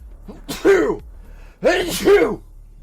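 Two sneezes with vocal, breathy quality, the second longer and more drawn out, close to the microphone.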